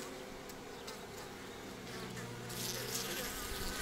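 A steady insect drone of bees buzzing close by at nucleus hives in an apiary, continuous and fairly loud, swelling slightly toward the end.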